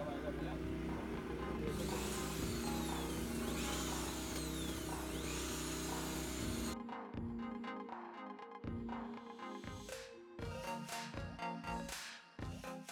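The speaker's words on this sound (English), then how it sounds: "Water is added in prescribed quantity to the grout material and mixed thoroughly, with slow speed drill for 5 minutes." A slow-speed drill mixes Sika grout with water for a rock anchor foundation, giving a steady motor hum for about seven seconds before it stops and gives way to other, choppier sounds.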